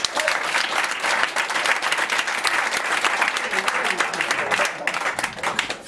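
A concert audience at a hot club jazz evening applauds steadily throughout, a dense, sustained wash of many hands clapping close by with no gaps.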